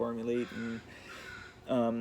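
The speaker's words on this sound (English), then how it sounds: "I got some crows in the background." Crows caw in the background outdoors: three harsh, moderately loud calls, two close together at the start and one more near the end, with quieter ambient noise between them.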